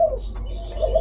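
A spotted dove kept for breeding coos, low soft notes at the start and again near the end, close by in a quiet setting.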